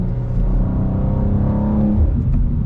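A stock manual BMW M2 engine revs after a downshift on New York City streets, a close, deep rising rumble from inside the car lasting a couple of seconds.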